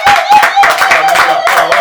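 A church congregation claps together in quick bursts, loud and close, with voices mixed into the applause.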